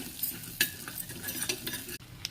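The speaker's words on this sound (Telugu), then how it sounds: "జీలకర్ర వేసుకోవాలి కాస్త, ఇవన్నీ కూడా ఒకసారి కలుపుకోవాలి." A spoon stirring whole biryani spices and cumin seeds in sizzling butter or oil, with a steady fry hiss broken by several scraping clinks against the pan.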